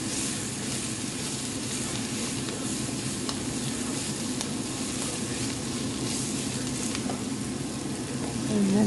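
Potato stirred into frying capsicum, bacon and onions in a pan, a steady close sizzle with scraping stir strokes throughout, no talk.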